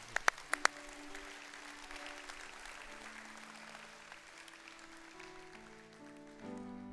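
A church congregation applauds steadily after a few sharp loud claps at the start, with sustained organ or keyboard tones ringing underneath and the clapping fading slightly toward the end.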